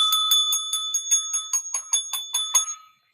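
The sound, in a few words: bell ringing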